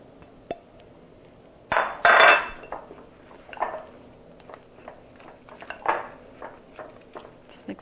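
Mashed bananas are stirred into muffin batter in a bowl, heard as a burst of clattering utensil-on-bowl knocks followed by scattered lighter taps and scrapes, close and intermittent, with no voices.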